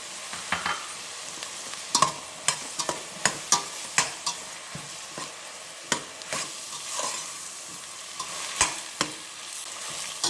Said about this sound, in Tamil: இப்போ தக்காளி பழம் போடுறேங்க.